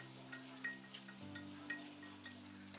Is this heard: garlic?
yes